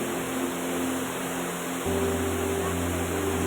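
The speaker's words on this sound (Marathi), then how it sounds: "बघा धबधबा" A village waterfall in the Konkan countryside pours in a dense, steady roar that fills the whole clip at close range, with a faint low hum beneath it.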